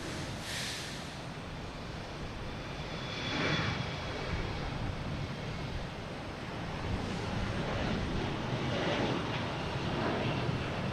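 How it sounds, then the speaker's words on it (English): American Airlines airliner arriving from Chicago at Boston Logan, a steady distant jet roar with broad rumble that swells slightly midway and holds on, no talk over it. "American Airlines coming from Chicago"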